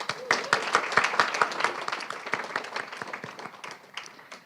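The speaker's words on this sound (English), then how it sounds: "Let's give these individuals a round of applause" Applause from a modest audience at a state poetry recitation final, distinct individual claps audible within a brisk, steady patter that gradually thins toward the end.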